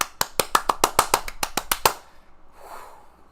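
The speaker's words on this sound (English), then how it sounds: "Can we have a round of applause for Ziggy Bonk?" About a dozen crisp hand claps in a steady, quick rhythm from a single person close by, stopping abruptly and leaving faint room noise behind.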